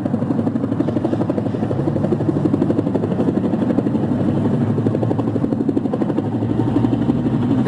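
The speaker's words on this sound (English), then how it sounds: "Here comes another helicopter." A helicopter flies overhead, its steady, loud rotor chop continuous and close throughout with no talk.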